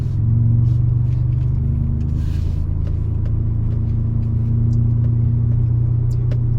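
Car driving along a firm dirt road on a mountain, its engine a steady, loud low drone with a faint higher whine, close and continuous with no speech.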